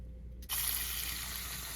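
Tap water gushes into a pan to cover red potatoes in a kitchen, starting abruptly after a near-silent moment and then running as a steady, close splashing fill.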